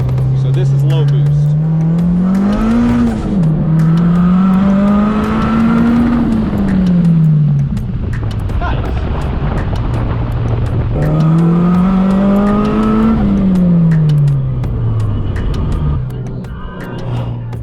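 A Honda car driven at low turbo boost, its engine note rising and falling through two long acceleration pulls with gear changes, loud and close, tire and road noise underneath.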